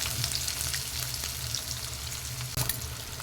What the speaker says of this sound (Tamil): இப்போ வெங்காயத்தை நல்லா வதக்கிடலாங்க.